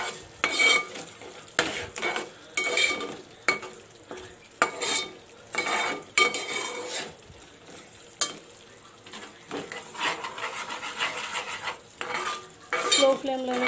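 Masala frying on a low flame in a pan with a soft sizzle, broken by repeated, rhythmic scrapes and clinks of a spoon stirring against the metal.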